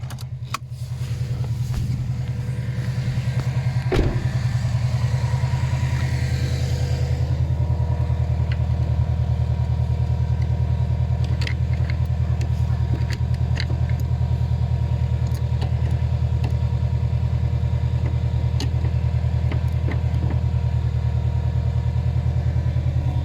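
A diesel Ford Fiesta 1.6 TDCi cranks over in cold weather and catches, then settles into a steady, loud rumbling idle, heard up close with occasional small clicks and knocks.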